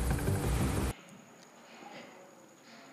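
Helicopter in the Gangstar video game: a loud, dense rotor and engine roar for about a second, then it cuts to a faint background hum.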